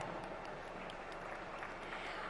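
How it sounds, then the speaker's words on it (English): Audience at a finance event in India applauds a humanoid robot demonstration, a continuous dense clapping that holds at an even level throughout. "Can we have a big round of applause for that?"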